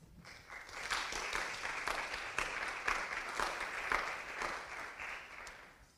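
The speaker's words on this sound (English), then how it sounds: "Thanks, Niharika. Applause," Sustained audience applause filling a lecture room after a scientific talk on supernova light curves, dense overlapping clapping at steady loudness that tapers slightly at the end, with no voices over it.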